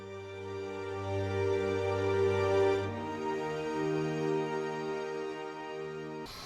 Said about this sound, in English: Then once we hear the violins, I introduce some cellos to kind of give it that little push up